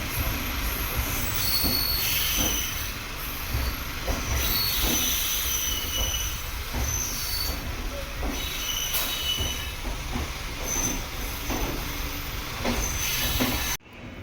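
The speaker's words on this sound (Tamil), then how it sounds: "train number 12626 Kerala express new Delhi to Thiruvananthapuram central போகிறதுங்க" The Kerala Express, train 12626 from New Delhi to Thiruvananthapuram Central, rolls past close by, with loud squealing wheels, rhythmic clacking over rail joints, and a steady roar that cuts off at the end.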